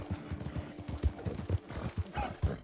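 Horse hooves clip-clop steadily in a quick rhythmic gait in the Red Dead Redemption 2 video game, with a short neigh near the end, close and moderately loud with no talk.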